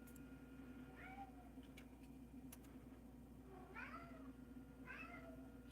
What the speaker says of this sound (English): Yes, we're talking about you, cat.